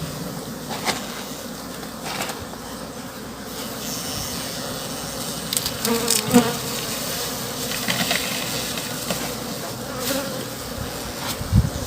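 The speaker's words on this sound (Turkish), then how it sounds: "Bu İtalyan cinsi bir arımız." A continuous, steady buzz of many Italian honeybees hums close by for the whole stretch, with occasional louder passes.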